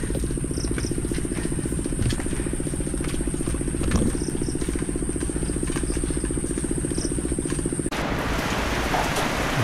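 Rain falling during the habagat monsoon, a steady broadband patter under a high, continuous insect-like whine, with a brief thump midway before the whine cuts out and only the rain hiss remains.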